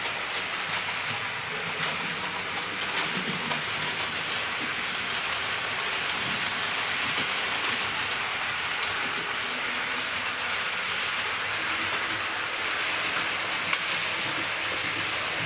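A Hornby Scotrail R3903 five-car model train runs around a wall-mounted track loop, giving a steady, even rushing whir of wheels on rails that holds constant throughout, with no talk.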